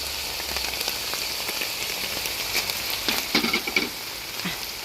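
Red chili peppers stir-fried with pork in a pan, sizzling and crackling steadily in rendered pork fat, with a few sharper spatters and stirring scrapes building toward the end; no one talks.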